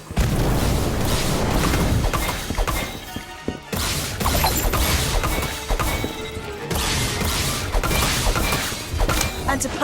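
Fire spell blasts in a Harry Potter video game, a dense run of loud booming crashes and whooshes with brief gaps, continuous and close, over a busy game soundtrack.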